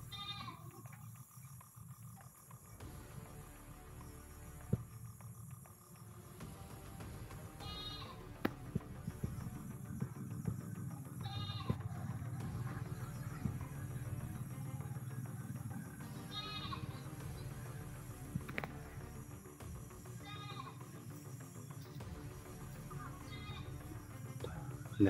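Goats bleat repeatedly at a moderate distance over a steady background hum, with occasional sharp knocks; no talking.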